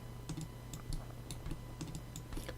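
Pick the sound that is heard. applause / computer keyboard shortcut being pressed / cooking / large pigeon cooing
computer keyboard shortcut being pressed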